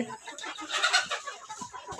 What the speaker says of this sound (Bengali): আপনারা দেখতে পাচ্ছেন এখানে অনেকগুলো মুরগি আছে।